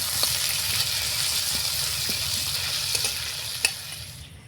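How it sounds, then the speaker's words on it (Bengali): A cumin, ginger and green chili tempering fries in hot oil while being stirred, giving a constant close hiss and sizzle with light scrapes and a sharp click near the end. "একটু ফোড়নটা নাড়াচাড়া করে ভেজে নেব"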